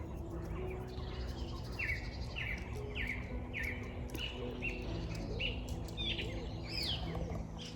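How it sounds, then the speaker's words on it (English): Birds chirp in a repeated series of bright calls over a steady outdoor hum on a spring morning in the English countryside; no clear rustling of squirrels in leaves stands out. "the sound of the birds and the squirrels scampering around in the leaves"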